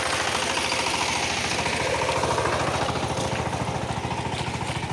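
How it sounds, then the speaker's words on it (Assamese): A tractor engine runs in a rice field, chugging in a fast, even rhythm of firing pulses. The sound is close and steady throughout, with no voices. "আৰু দাদাৰ পূৰা ট্ৰেক্টৰ মাৰি আছে।"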